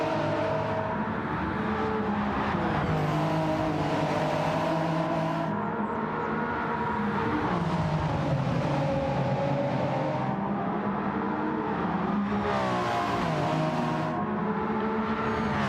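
Race car engines in a sim racing game scream at high revs, with rising and falling tonal whines as cars accelerate, shift and pass, layered and continuous throughout.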